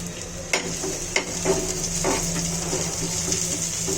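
Dried hilsa and eggplant simmer in a pan over low heat, giving off a steady soft sizzle punctuated by a few sharp utensil clinks and stirring scrapes close by.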